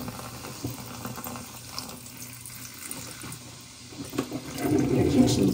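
Cleaning liquid is poured slowly down a kitchen sink drain, a soft continuous trickle that builds into a louder gurgling flow toward the end, close by with no talking.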